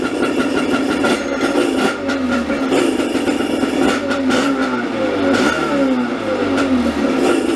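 A KTM 650 SX motorcycle engine with a newly installed 38mm carburetor, running rich, revs up and down repeatedly, its pitch sweeping in quick rising and falling bursts close to the microphone.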